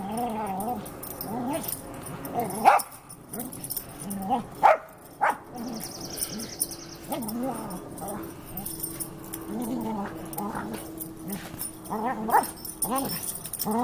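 A dog plays rough with a toy giraffe, giving growls, whimpers and yips in bursts amid rustling and scuffling, close by, while someone talks over the play at intervals.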